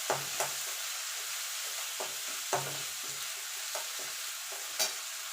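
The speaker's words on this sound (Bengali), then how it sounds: "এবার কাঁচা গন্ধ যাওয়া পর্যন্ত একটুখানি নাড়াচাড়া করে নেব" Ginger and turmeric fry in a pan while a spoon stirs them, giving a soft continuous sizzle broken by periodic scraping strokes, close and clear.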